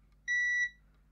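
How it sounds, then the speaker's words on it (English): A faulty Xbox One S console gives a single clean electronic beep, a steady tone lasting about a third of a second against a quiet hum, with no talking. "What was it beeping for?"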